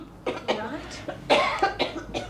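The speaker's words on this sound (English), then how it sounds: "It's just a cough." A woman's cough, several short throaty bursts in quick succession at close range, with a brief pause between groups and no other sound.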